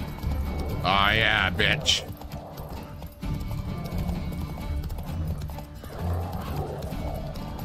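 Roach, the horse in The Witcher 3, gallops with rapid, rhythmic hoofbeats and lets out a loud whinny early on, while someone talks briefly over the action.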